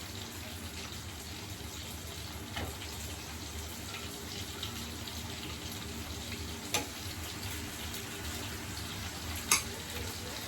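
Chicken pieces go into masala frying in oil for pepper chicken gravy, producing a steady close sizzle with a few faint clinks and scrapes.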